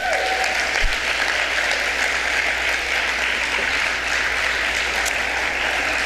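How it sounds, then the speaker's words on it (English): Sustained applause from an audience at an arts awards ceremony, a dense, even roar of many hands clapping at moderate distance with no break across the whole stretch. "Let's take another moment to applaud Aisha's way with words"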